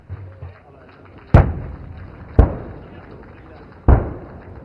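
Artillery guns fire direct shots at enemy tank targets on a Pokhran firing range during an army demonstration, three sharp, distant booms spaced about a second apart, each trailing off in a rumbling echo.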